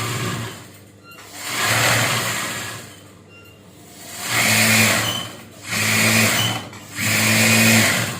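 A sewing machine stitches a maxi-style nighty in several bursts of fast, even whirring, loud and close, speeding up and slowing down with short pauses between runs.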